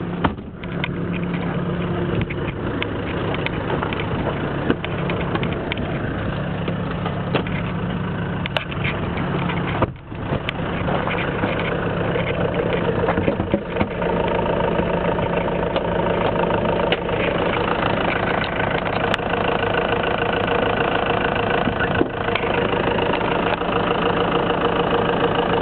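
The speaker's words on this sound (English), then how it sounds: "You can see it's running very nicely. Very clean engine." Isuzu Bighorn Plaisir Long 2000 with a three-liter engine, heard with the hood open, idling in a steady, even drone that holds loud and close throughout.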